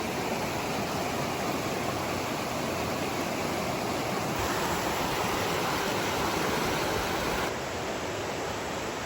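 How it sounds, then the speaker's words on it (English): Steady rushing flow of a creek in the Tennessee and North Carolina mountains, a broad continuous wash of running water heard close and loud, with no voices over it. "there's running water, and there's Jake's Creek"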